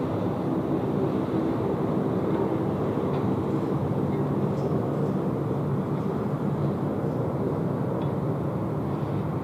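A Jetstar jet arriving from Osaka Kansai at Sydney Airport in wet weather, a steady broadband engine roar that stays loud and constant throughout, mixed with rain and wind noise and no talk.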